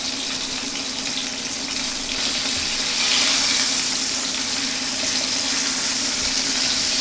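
Chicken pieces browning in a pan for chicken piccata, with a continuous loud, even sizzle and crackle that swells slightly midway.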